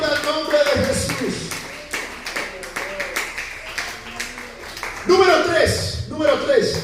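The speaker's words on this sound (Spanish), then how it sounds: "aplauda el nombre de Jesús." Church congregation clapping rhythmically during a sermon, steady hand claps under loud overlapping voices and speech that continue throughout, with the clapping more prominent near the end.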